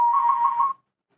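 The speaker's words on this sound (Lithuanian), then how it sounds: "Mažas švilpukas jau švilps kitokių garsų." A small clay whistle gives one steady, clear, high tone lasting under a second, then stops abruptly into silence.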